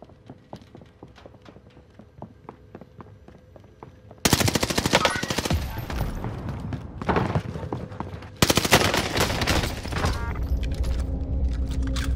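Fast automatic fire from a video game gun with a good magazine, two long loud bursts after a quieter stretch of faint ticking, close and alone.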